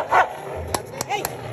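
Dogs scuffle in a fight, giving short yips and barks with whimpering while a person talks over the commotion.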